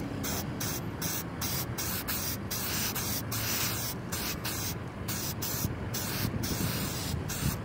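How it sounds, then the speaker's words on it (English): A spray paint can hisses continuously while coating the underside of a car's hood, a close, steady spray broken by short regular pauses between bursts. "Now I'm going to spray all this stuff here up underneath the hood."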